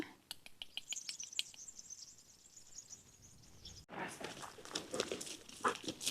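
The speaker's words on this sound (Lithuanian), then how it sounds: "Kaip paukščiai čiulba." Birds chirp faintly on a mountain park walk, with a short run of sharp repeated tweets early on, followed by rustling and crinkling noise near the microphone.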